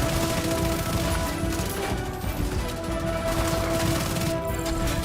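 Dense, continuous video-game gunfire from The Division 2, including shotgun blasts, rattles through a busy, loud firefight that carries on without pause across the stretch.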